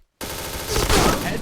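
Rapid automatic gunfire in a shooting video game during headshot practice, a dense burst of shots that swells louder toward the end after a brief silent start.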